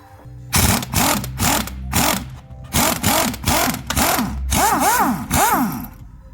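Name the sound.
unscrewing part of Honda Civic strut assembly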